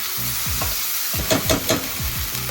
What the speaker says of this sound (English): Give your potatoes a nice stir. You want to coat them in that oil, that lard.